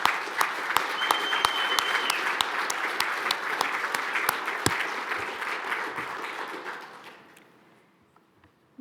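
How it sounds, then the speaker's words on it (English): A room full of guests at a literary award celebration gives a steady round of applause, dense clapping that holds for several seconds and then thins out and fades to near silence near the end. "if you could join me in a round of applause"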